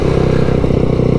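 A 2021 MADDOG Generation V 150cc scooter engine idling high, a close, loud and steady putter with rapid even pulses and no talk.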